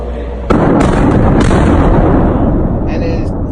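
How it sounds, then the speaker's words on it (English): An explosion plays from a video: a sudden loud blast hits early, then a long, dense roaring rumble carries on before easing slightly toward the end. "you do not hear the explosion at the same time that you see it"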